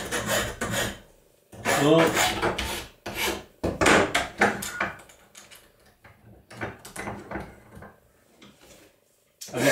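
Hand file rasping across freshly cut aluminium to deburr an edge left by a circular saw, bursts of close, gritty back-and-forth strokes separated by pauses, with a brief spoken word.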